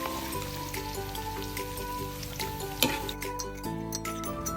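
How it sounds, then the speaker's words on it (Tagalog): Potatoes and carrots frying in a pan for a Kapampangan-style pork igado, a steady close sizzle running throughout with a faint utensil clink partway. "I-fry muna natin yung ating patatas at carrot ng mga 5 minutes."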